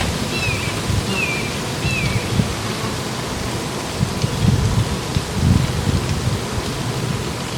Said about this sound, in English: Now it wants to rain.